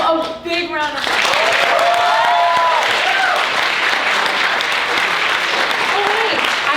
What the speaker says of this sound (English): please give Arden Cho a big round of applause